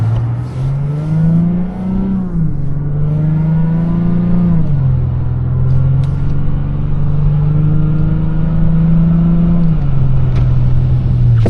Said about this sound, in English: So while you can hear the exhaust note a little, it's definitely not loud, it's not drony, and super comfortable